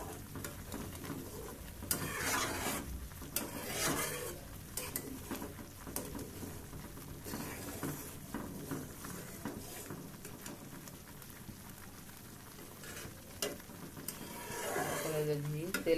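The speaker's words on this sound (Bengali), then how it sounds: "ধীরে ধীরে এভাবে নাড়া দিতে হবে, নাহলে নিচ থেকে লেগে যাবে, পুড়ে যাবে" Milk cream for homemade ghee is stirred slowly in a pan over medium heat, with soft scraping and light clinks of the spoon against the pan running steadily beneath a voice talking.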